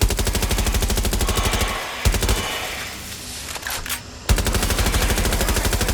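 Sustained automatic gunfire from Watch Dogs: Legion, a fast, even stream of close machine-gun shots that breaks off for about two seconds of quieter scuffling, then resumes just as rapidly.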